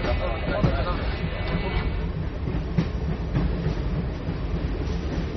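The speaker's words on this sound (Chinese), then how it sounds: "专家们乘坐的第二梯次列车将奔袭4064公里，穿越青藏高原，" A passenger train running on the Qinghai-Tibet railway across the Tibetan Plateau, a steady continuous rumble of the carriages that fills the whole span, with voices talking over it.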